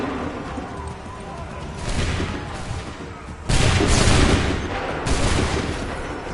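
A volley of gunshots fired together on command, each salvo a sharp broadband crack with a rolling boom, three loud volleys spaced a second or two apart, with shouted voices around them.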